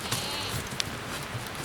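Pack goats out on a backcountry alpine trail give a couple of faint bleats over steady wind and outdoor noise, with a brief sharp sound near the middle.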